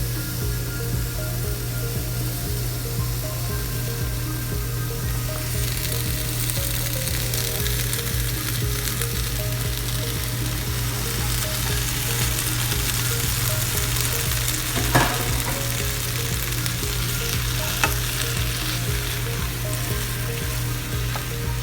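Mushrooms and spinach sauté in a pan, giving a steady close sizzle and crackle that runs unbroken throughout, with occasional scrapes and taps of a utensil stirring the food.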